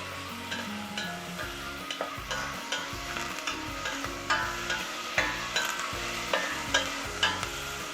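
Meat for tas kebab fries in a pan, a continuous close sizzle broken by repeated scraping stirs every half second or so, with no talk.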